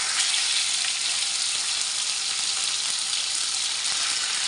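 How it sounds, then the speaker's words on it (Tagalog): Beef pieces frying in hot cooking oil in a pan, a loud, close, continuous sizzle and crackle that holds steady with no talking. "lagyan po natin ng mantika tapos iprito na po natin muna yung baka"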